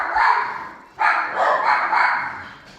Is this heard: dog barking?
yes